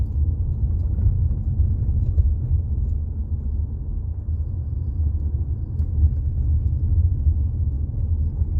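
A 2018 Jeep Compass rolls over bumps after a front-end repair, giving a steady low road rumble and engine drone inside the cabin with no distinct clunks standing out.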